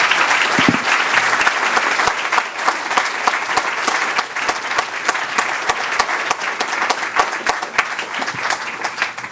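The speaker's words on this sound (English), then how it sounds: "maybe another round of applause for Bill." An audience applauds at the end of a talk with William Easterly, a dense, sustained round of clapping from a large indoor crowd that stays loud throughout.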